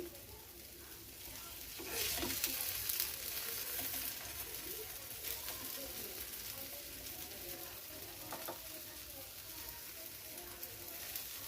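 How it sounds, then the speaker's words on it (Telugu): Hara bhara kababs shallow frying in a little oil on a pan, giving a steady close sizzle with brief louder crackling bursts, no voices over it. "పెన్న మీద కొంచెం నూనె వేసుకొని దీన్ని షాలో ఫ్రై చేయాలి"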